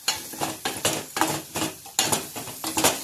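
Carrot curry being stirred back and forth in a pan with a ladle, giving a close, rhythmic series of about a dozen metallic scrapes and clinks with a faint sizzle beneath.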